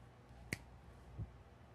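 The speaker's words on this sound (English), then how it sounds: "I'm going to snap my fingers." A single finger snap from a magician, sharp and close in a quiet room, followed by a faint soft knock.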